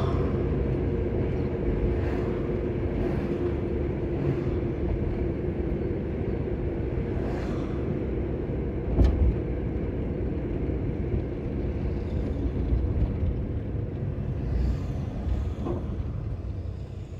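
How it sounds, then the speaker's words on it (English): A 1974 Dodge Dart on the move with a faulty, noisy rear end, giving a loud, continuous low rumble and drone with faint whining over the top. Road and engine noise fill the whole stretch, with a brief knock partway through. "Horrible rear end noise."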